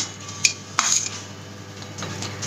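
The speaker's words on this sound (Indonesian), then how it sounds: "Kita aduk balik-balik gini ya." Utensil stirring and folding potato chocolate sponge cake batter in a bowl, with a few sharp clinks of metal against the bowl followed by softer scraping and turning sounds, close and unaccompanied by talk.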